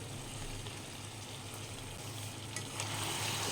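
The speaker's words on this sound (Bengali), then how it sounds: "2 থেকে 3 মিনিট আমি আলু আর গাজরটা দিয়ে মশলার সাথে ভালো করে কষিয়ে নেব" Fried potatoes and carrots sautéing with chicken and spices in a pan give a steady, close sizzle with soft stirring scrapes, continuous and moderately loud throughout, with no voices.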